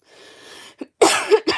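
A voice imitates a raspy smoker's cough: a soft breathy lead-in, then several harsh hacking bursts close to the listener.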